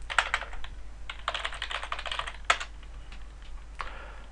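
A search keyword is typed on a computer keyboard, soft close key clicks in a few quick clusters with short gaps and one sharper tap, against a faint low hum and no speech.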